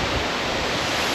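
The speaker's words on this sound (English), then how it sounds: "that waterfalls is like a great big air conditioning system" A broad, constant roar of falling water from a waterfall in the Nahatlatch Valley, dense and unbroken with no voices over it.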